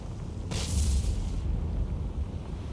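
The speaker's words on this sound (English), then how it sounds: "Explosion." A deep, rumbling explosion rips through a warship in the naval combat game War on the Sea, a single blast that bursts out, lingers with a low roar and fades under the ongoing battle din.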